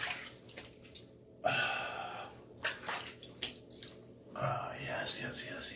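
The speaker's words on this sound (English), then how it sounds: "Let me wet the face." Water splashing as hands wet the face after a shave, irregular close splashes and dripping with brief pauses and a louder burst near the end.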